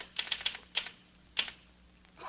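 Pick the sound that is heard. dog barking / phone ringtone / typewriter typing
typewriter typing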